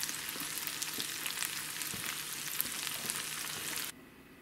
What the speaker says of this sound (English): And we can just go ahead and kind of coat and stir.